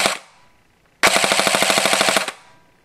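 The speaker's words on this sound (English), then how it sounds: "if you just hold on the trigger for more than 1 second, it will disable the burst function, and it will allow you to have fully automatic" AEG airsoft gun firing fully automatic: a short sharp shot, a pause, then a rapid, even burst of about a dozen loud close cracks lasting over a second.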